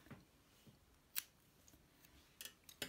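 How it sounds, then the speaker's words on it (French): Scissors snip crochet yarn in a few quiet, sharp clicks spaced apart, close by against a near-silent background. "on peut couper notre fil"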